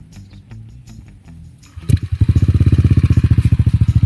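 A Yamaha NMAX V2 scooter fitted with a semi-open JVT V3 exhaust starts up and settles into a loud, throbbing idle with rapid, even pulses close by.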